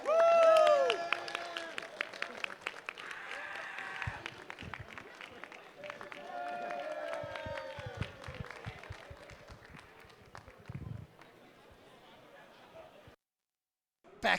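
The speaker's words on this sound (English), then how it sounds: "Let's give it a round of applause for one more time for your top 8." An audience at a Super Street Fighter II Turbo fighting game tournament claps and cheers for the top eight players, irregular applause with scattered taps and crowd noise that thins out toward the end.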